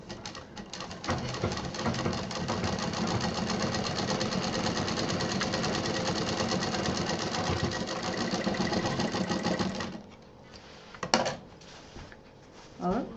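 Sewing machine stitching a baby backpack runs in a steady, loud whirring burst for about ten seconds, then stops, leaving a few short handling clicks and rustles.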